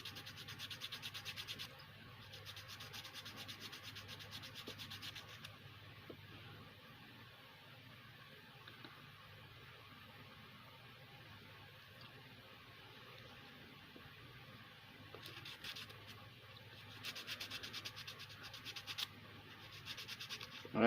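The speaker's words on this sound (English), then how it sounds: "I just take me a piece of sandpaper to it until I see it coming off real good" Sandpaper rubbed by hand against a burnt corn cob pipe bowl, giving a steady, soft, low scratchy rasp that runs continuously throughout with slight surges near the end.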